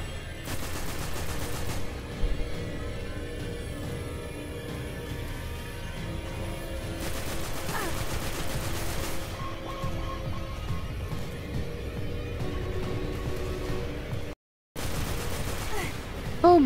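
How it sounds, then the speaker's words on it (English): Rapid gunfire from a shootout with enemies in Destiny crackles in dense bursts over a continuous game background, loud and close, with a brief dropout near the end. "I'm shooting all these things"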